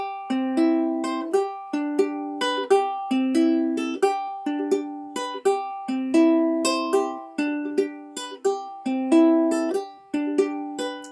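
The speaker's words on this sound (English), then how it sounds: "So like you would count every time your thumb plucks." Fingerpicked acoustic guitar playing a steady repeating pattern of plucked notes from a song, thumb bass notes falling on each beat with higher strings filling between, close and clear.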